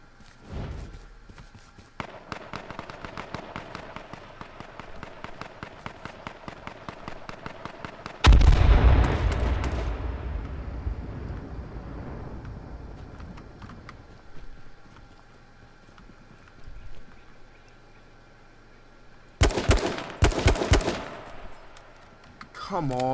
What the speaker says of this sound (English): Oh, shots. Shots in the background.